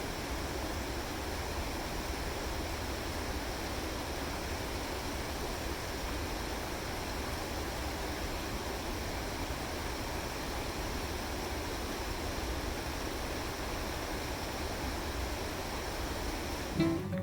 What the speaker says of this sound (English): there's a rushing, roaring river just below these tents you see in front of us